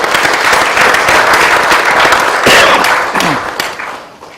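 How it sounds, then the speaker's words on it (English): A room full of business staff gives a loud, sustained round of applause, dense clapping with a few sharper accents, fading toward the end. "everybody in this room who actually touched that project deserves a round of applause"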